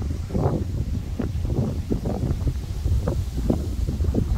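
Powerful foehn wind gusts roar through a forest during a storm, loud and rushing with repeated surges of buffeting and rustling.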